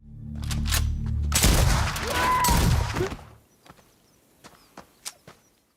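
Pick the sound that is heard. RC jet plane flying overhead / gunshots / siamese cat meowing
gunshots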